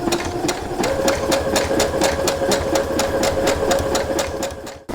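Sewing machine stitching around the edge of a baby blanket, a steady close mechanical whirr with regular needle ticks running continuously, stopping abruptly at the end; no voices.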